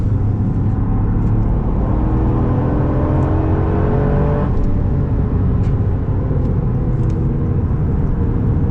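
Toyota GR Yaris with its 3-cylinder turbo engine driving on Italian streets: a loud, steady engine drone inside the cabin, with a rising whine partway through.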